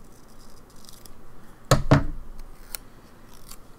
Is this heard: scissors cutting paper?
yes